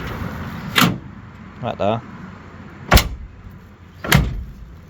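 Car doors on a 1970 split-bumper Camaro conversion shut three times with solid, sharp thuds spaced a second or so apart, close by in a quiet shop, with a brief spoken remark between the first two.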